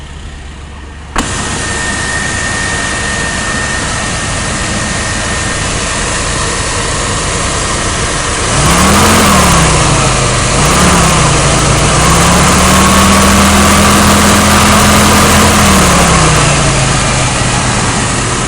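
A 1992 GMC pickup engine idling steadily after new spark plugs were fitted, a loud continuous close-up drone that starts suddenly, then swells and shifts pitch in waves partway through, with no talk.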